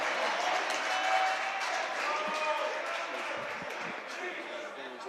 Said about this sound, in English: you hear the entire crowd erupt